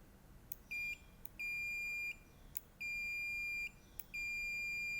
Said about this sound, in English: by default in continuity, let's hear the sound of the continuity